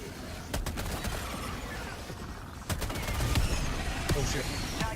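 Mortar strikes in Helldivers 2, sharp explosive bursts landing repeatedly amid a dense, loud wash of battlefield gunfire and rumble, with a player voice talking over it.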